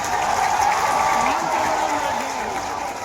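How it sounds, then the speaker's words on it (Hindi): Loud, sustained applause fills a crowd at a Nuakhai Bhetghat cultural gathering in western Odisha, holding steady for the full few seconds with a faint voice over it. "जोरदार तालियां हुलूली जाओ"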